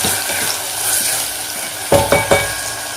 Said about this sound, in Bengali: এখানে দেখো আমার ডিমটাও প্রায় ভাজা হয়ে গেছে